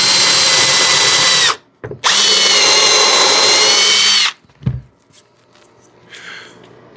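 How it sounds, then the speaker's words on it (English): A power drill bores an 1/8 inch countersunk hole into wood, whining loudly in two long bursts with a brief pause between, then stopping, followed by faint handling clatter. "we're gonna drill an 1/8 inch hole with countersink to recess that screw"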